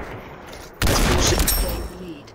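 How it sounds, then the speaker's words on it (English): Gunfire in a VR shooter game, a sudden loud burst of rapid shots lasting about a second and then trailing off, with faint background noise before it. "That was literally 3 shots you took me out with."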